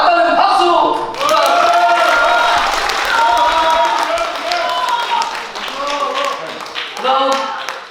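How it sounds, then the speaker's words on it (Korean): Audience at a book launch event clapping, a dense burst of applause that rises and holds, mixed with voices and loud amplified speech layered over the claps. "맞다면 박수!"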